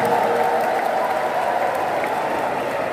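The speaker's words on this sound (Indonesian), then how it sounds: "kita berikan tepuk tangan yang meriah untuk Bapak Erwin Dwi" Sustained audience applause at a Golkar party witness briefing event in Blora, a dense steady wash of clapping hands that stays loud and even throughout with no speech over it.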